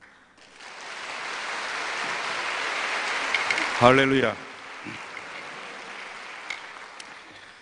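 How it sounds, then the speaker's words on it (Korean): A church congregation at an anniversary revival service claps in welcome, a broad, steady applause that swells and lasts several seconds, with a short spoken exclamation in the middle. "우리 나오실 때 또 환영의 박수로 맞이하겠습니다."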